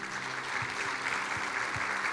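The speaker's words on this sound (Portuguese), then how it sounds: "Você pode dar um aplauso ao Senhor?" Congregation applauding in a church service, a steady wash of clapping from many hands, moderately quiet and sustained throughout with no one speaking over it.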